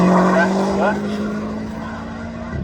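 An SEI race car fitted with a Vauxhall 2 litre red top engine at a speed hillclimb gives a sustained engine drone that fades slightly as it goes by, heard under an announcer's talk.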